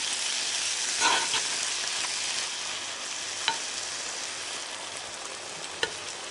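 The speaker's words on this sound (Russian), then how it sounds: "Добавляем в сковороду еще и помидорку, отправляем." Steady sizzle of frozen vegetables and tomato frying in a pan, a constant hiss with a couple of sharp clinks from stirring, no voices.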